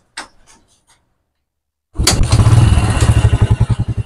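After a few faint clicks and a pause, a motorcycle with a stock exhaust pipe fires up and settles into a loud, steady, throbbing idle.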